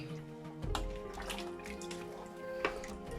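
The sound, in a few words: water poured into a cooking pot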